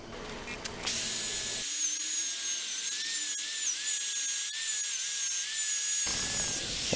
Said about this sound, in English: Now I need to go get my drill.